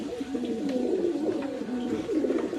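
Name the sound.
pigeons cooing while being bathed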